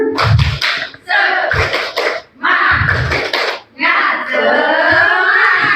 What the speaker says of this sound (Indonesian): Kita coba tepuk semangat dulu ya.